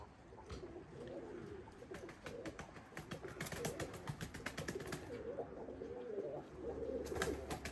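Lemon-colored breeding pigeons coo in low, repeated rolling calls, close by and fairly steady, with occasional wing flutters and soft clicks mixed in.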